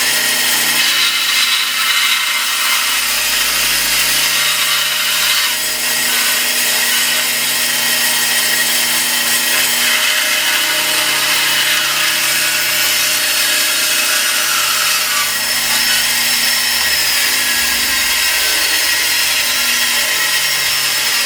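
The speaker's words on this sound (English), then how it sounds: "quickly I would go over to my bandsaw" A bandsaw rough-cuts the arch of a wooden guitar back brace, a steady, loud, close-up whine of the blade through wood, running continuously with slight changes in pitch and load.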